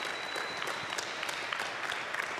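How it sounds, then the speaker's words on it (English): Applause from the audience at a youth ball hockey championship game, steady dense clapping filling the whole stretch at a moderate distance. "Why don't we give both teams a round of applause?"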